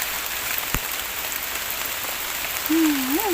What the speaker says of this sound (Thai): ฝนก็ตก